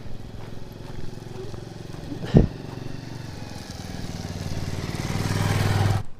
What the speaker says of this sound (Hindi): एक और मोटरसाइकिल लक्कड़ मंडी की तरफ जाते हुए।